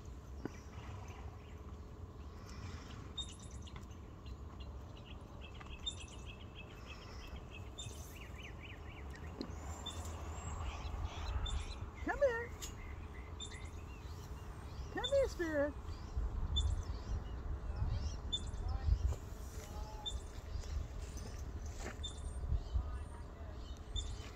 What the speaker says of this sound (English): so many squirrels. You hear them? Chirp, chirp, chirp